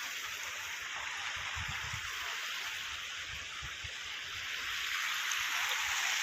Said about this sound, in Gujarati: પાણી વહે છે।